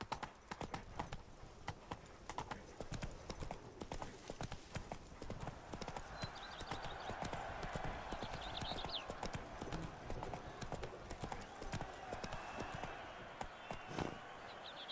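Roach, a horse in The Witcher 3: Wild Hunt (Blood and Wine), gallops with a rapid, continuous drumming of hooves throughout, moderately loud over game ambience.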